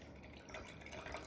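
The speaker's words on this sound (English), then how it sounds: "I am going to get water and put it in here." Water trickles and splashes into a wine glass in a steady, close pour of bubbling, dripping sound lasting about a second, with no talking.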